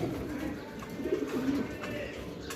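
Racing pigeons, a breeding pair, coo softly and steadily at close range, a low throaty rolling call over a faint background murmur.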